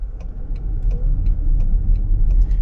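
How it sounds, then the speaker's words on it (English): A 2025 Toyota Crown Signia XLE turns tightly through a full 180-degree turn, a low, steady engine and road rumble close by with faint ticking sounds on top and no voices. "test out our turning radius on this Crown Signia"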